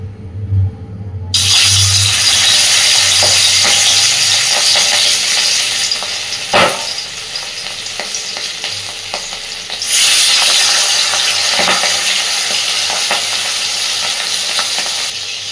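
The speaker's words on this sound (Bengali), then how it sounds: "এইবার গ্যাসের ফ্লেমটাকে কমিয়ে দিয়ে মাছগুলোকে একটু ভেজে নেব।" Marinated aar fish frying in oil over a low gas flame, a loud continuous sizzle and crackle with occasional sharp pops and stirring clatter.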